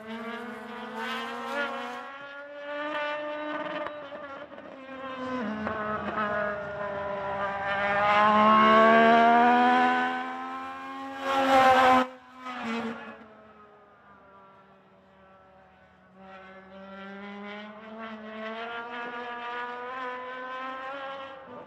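Legend race car lapping Hythe Motor Speedway, its engine rising and falling in pitch as it works through the turns, loudest mid-lap with a brief sharp burst, then settling into a steadier drone.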